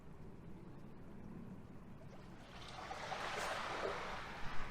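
Quiet beach ambience on an almost windless day: soft, faint wash of surf and water, gently swelling louder toward the end, with no voices.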